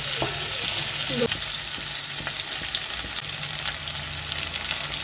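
Green capsicum sizzles in a pan with chilli-garlic paste, turmeric and salt, a steady frying hiss broken by scraping stirs and a few clanks of the spoon against the pan.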